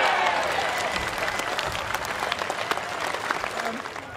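A golf gallery at the Oates Vic Open bursts into loud applause and cheering after a winning shot, the dense clapping strongest at first and then gradually thinning out.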